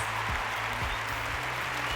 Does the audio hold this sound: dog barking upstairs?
no